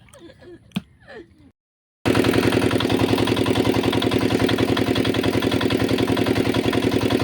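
A boat's motor starts up after a brief moment of quiet and a few faint background sounds, then runs steadily with a loud, close, rhythmic chugging throughout, with no talk over it.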